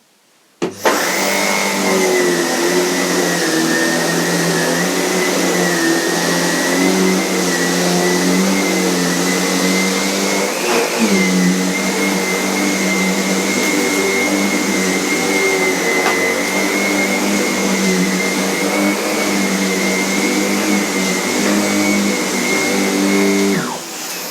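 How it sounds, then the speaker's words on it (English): A vacuum cleaner runs on a rug with a loud, steady motor whine and airflow roar that holds nearly unchanged for over twenty seconds after switching on, with no voices. "I like having the remote handle because this rug doesn't take full suction, any vacuum."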